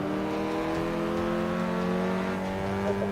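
Race cars in Forza 5 on Xbox One, two vehicles on a circuit in split-screen play, drone steadily with a loud, sustained engine whine and only slight pitch shifts throughout.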